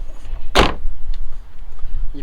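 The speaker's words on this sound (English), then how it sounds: "You press and hold the key until the door opens." An Audi A2 rear hatch pops open by remote key on a fitted strut and spring, giving one sharp loud release thud, then faint mechanical movement.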